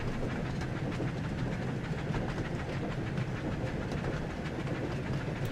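Thomas the tank engine hauls a very long, heavy train in Train Sim World 5, a dense continuous rumble of wheels and rolling stock with faint rhythmic clatter, steady and loud throughout.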